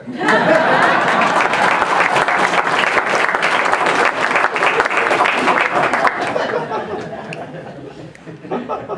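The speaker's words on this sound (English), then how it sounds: "we can give it a clap." Loud, sustained applause from a crowd at a congressional campaign kick-off event, dense clapping mixed with chatter and some laughter, fading near the end.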